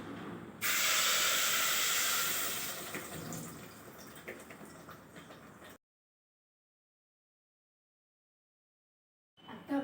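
Ground masala paste sizzling in a heated clay pot for Malwani fish curry, a loud hissing burst that sets in suddenly and fades over several seconds, then silence before a brief noise at the end.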